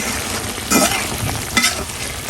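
Cumin and salt are stirred into an eggplant dish in a frying pan, giving a continuous close sizzle with a couple of brief scraping swishes.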